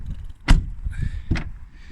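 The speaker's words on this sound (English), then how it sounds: "door actually closes" An Audi A4 B8 car door slams shut twice in quick succession, two sharp, close thuds with solid latch clunks, followed by a brief mechanical whir.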